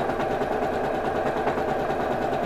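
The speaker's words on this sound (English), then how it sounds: "It's always good to do a little reverse stitch if you're starting a new" A sewing machine runs a short reverse stitch on fabric with a continuous, steady mechanical whir and close, even vibration throughout, with no pauses.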